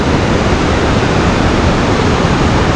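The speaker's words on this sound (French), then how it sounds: "On a trouvé les premières cascades." Steady, roaring rush of falling water, loud and broadband with no pauses, from powerful cascades on the Mekong River at the 4000 Islands, Laos.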